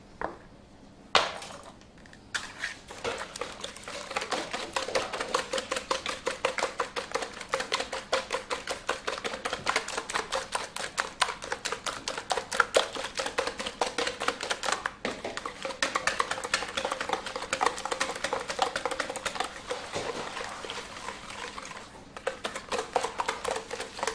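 Cake batter with sugar being whisked in a bowl, a rapid, relentless rattle of whisk strikes continuing nearly nonstop, close and fairly loud, with brief pauses at the start and near the end.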